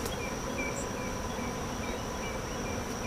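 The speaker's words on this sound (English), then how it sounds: "there's a whole bunch of bees gathering right there" Honeybees gathering near hive colonies on a beekeeping farm, heard as a steady, continuous insect buzz without talk, even and sustained throughout.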